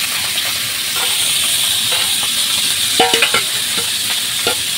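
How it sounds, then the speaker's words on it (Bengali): Small fish such as tengra, puti and jiol fry over a wood-fired stove with a loud, steady sizzle and hiss, punctuated by brief clinks and scrapes of stirring near the end. "এই এখন বেশি মাছ রান্না করা হচ্ছে"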